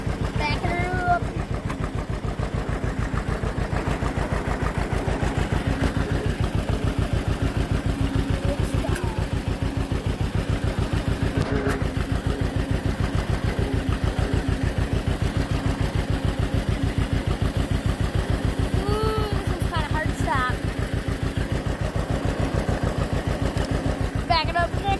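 Steady idle of a tractor engine as it backs out of a shed, a close, even, throbbing chug that runs throughout while someone talks over it now and then.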